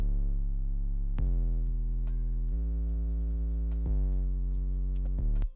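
Synthesized sub bass from an EDM trap beat, with deep booming held notes that change pitch every second or so, each new note starting with a sliding drop, loud and alone.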